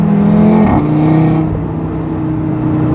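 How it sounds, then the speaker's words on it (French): An ABT Stage 1 tuned Audi RS3 with a 2.5-litre five-cylinder TFSI engine accelerates up close and loud, a steady droning engine tone shifting pitch midway as it pulls. "avec cette voiture, on a que envie d'accélérer, rétrograder pour entendre le pop quoi."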